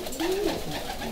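Racing pigeons in a loft give a short, soft cooing call, close and fairly clear over a steady background of low ambient noise.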